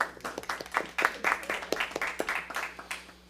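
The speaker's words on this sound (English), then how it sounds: "I think they deserve a round of applause" A small group at a school district board of trustees meeting claps for a short stretch, with uneven, scattered hand claps that rise and fall rather than forming a dense roar.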